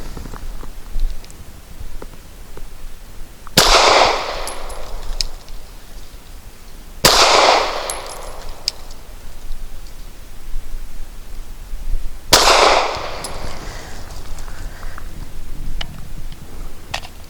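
Three sharp, loud shots from a Taurus G3 pistol firing Browning 147 grain black nickel-plated hollow points, spaced several seconds apart outdoors, each with a short echoing tail.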